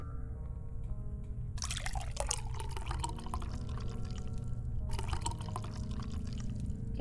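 A drink is poured in The Red Strings Club video game, a trickling, gurgling liquid stream in two bursts over a low steady background hum, fairly close, with no talking.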